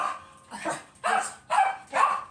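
A dog barks indoors in a kitchen, letting out four or five sharp, evenly spaced barks at close range, each one short and loud, with no speech over them.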